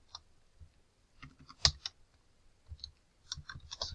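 Keys on a computer keyboard are typed in short irregular bursts of soft clicks, close and quiet, with small pauses between runs of keystrokes and no talk.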